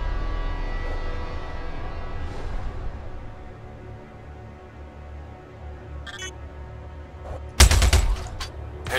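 Gunfire in the Star Citizen 2.5 space game, a sustained drone of ship noise with a brief rattling burst and a loud sharp volley of shots near the end.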